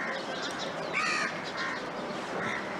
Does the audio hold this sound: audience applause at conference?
no